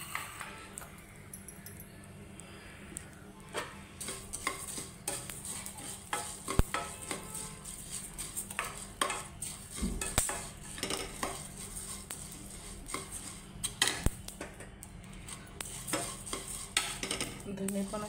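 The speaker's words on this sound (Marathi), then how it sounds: "धने पण असे भाजून घ्यायचे व्यवस्थित." Coriander seeds dry-roast in a pan for multigrain thalipeeth flour, a continuous rattling stir with frequent metallic clinks and scrapes of a spoon, soft and close with no talk.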